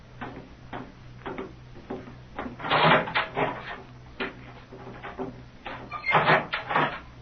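Wooden door swinging open in an old radio-style adventure game, with a series of creaks, knocks and latch clicks building to two louder bursts, heard alone at close range over a low steady hum.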